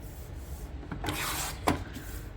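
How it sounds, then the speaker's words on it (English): A paper trimmer blade slides across scrapbook paper in one short, close rasping stroke, swelling briefly and ending with a sharper scrape. "So let's bring that cutter back in here and trim the next one."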